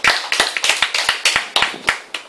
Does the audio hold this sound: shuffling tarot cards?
no